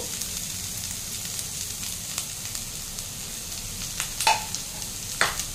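Beans, cauliflower, carrot, capsicum, pointed gourd and green chilli frying together in a pan, a soft continuous sizzle with a few light stirring clicks and scrapes, close and steady, no voices.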